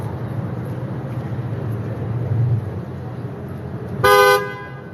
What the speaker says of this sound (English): why are the cops honking at this guy?